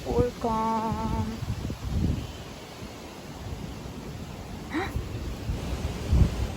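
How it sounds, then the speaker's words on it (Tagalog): Strong tropical-storm wind buffets a tent at a campsite, a broad steady roar with gusts and microphone rumble, while voices and other brief sounds break in over it. "Sobrang lakas ng hangin dito,"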